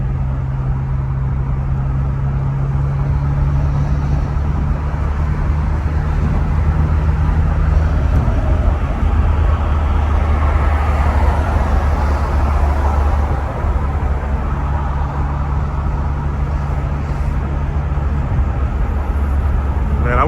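Alfa Romeo car engine droning steadily while driving, a loud low hum that holds its pitch, drops suddenly about eight seconds in, then climbs again, with a voice talking over it throughout.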